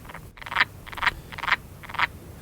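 A pair of wood frogs call in a spring wetland, four raspy, clucking croaks at an even pace, close and clear with no other sounds.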